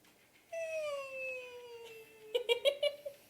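A person imitates a wheezing breath, producing a long descending whistly exhale followed by a few short choppy pulses, close and fairly loud, resembling a cat's meow.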